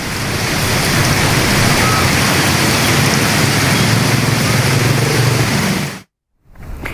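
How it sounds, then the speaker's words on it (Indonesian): Heavy rain pours over Gadok in a dense, steady roar that fills the whole scene, broken by a brief gap near the end. "cuaca sejak sore hari di wilayah Gadok diguyur hujan deras"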